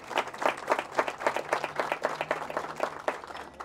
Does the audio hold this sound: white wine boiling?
no